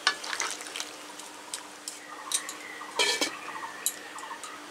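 A spoon stirs potatoes and pumpkin in water in a cooking pot for a Bengali pumpkin ghonto, giving sporadic close scrapes and soft clinks against the pot.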